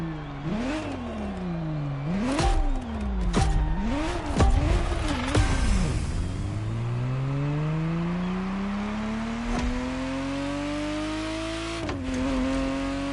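Ferrari Testarossa engine in The Crew Motorfest revving hard through several quick rises and drops, then holding a long steady climb in pitch as it accelerates, loud and close with no talk.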